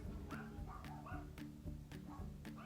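Dogs in a house yipping and barking in a steady run of short, high barks mixed with whiny whimpers, repeated about every half second and fairly close.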